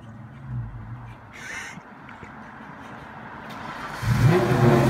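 A Ford Mustang engine revs up from a low idle, rising into a loud, sustained roar near the end, with engine rumble running throughout.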